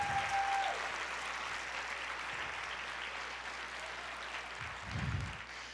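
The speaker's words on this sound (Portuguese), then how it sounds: "Quantos podem aplaudir o Senhor e dizer: eu quero isso na minha vida?" A church congregation at a Portuguese-language service applauds steadily, a broad, even wash of clapping at moderate volume, with a low hum beneath and a brief swell near the end.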